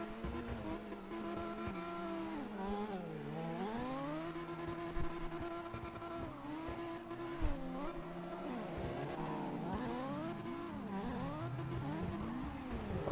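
A 400-horsepower ambulance in the CarX Drift Racing video game revs and whines continuously, engine pitch climbing and falling with gear changes and throttle swings, joined by other cars' engines throughout.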